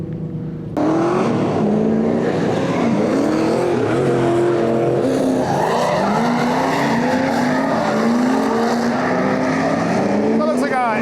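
V8-powered drift cars such as a 350Z and a Corvette skid at a grassroots Midwest drift event, with loud, sustained engine roar and tires squealing in wavering tones throughout.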